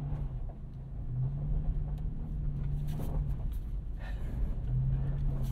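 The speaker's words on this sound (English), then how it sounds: "Let's go ahead and take this thing out on the road and see what it's like to drive." A 2022 Toyota 4Runner TRD Pro drives over an icy road in two-wheel drive with traction control off, its engine a steady low rumble with the pitch rising and falling, under faint road and tire noise with no talking.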